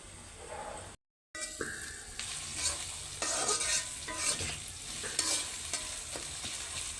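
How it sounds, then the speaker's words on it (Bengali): Onion sautés in oil in a pan for a pangas fish curry. A steady, close sizzle runs throughout with stirring scrapes, broken by a brief silent gap near the start. "পেঁয়াজটা কি কষানো হচ্ছে নাকি ঠিক আছে"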